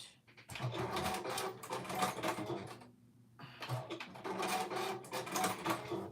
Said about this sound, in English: you're going to backstitch at the beginning and end